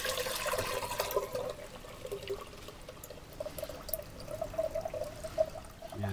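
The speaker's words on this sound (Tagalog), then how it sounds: "Lagyan na natin dito sa may clay pot." Rice-washing water pours into an unglazed clay palayok being seasoned, a continuous close splashing trickle lasting several seconds, alone and without talk.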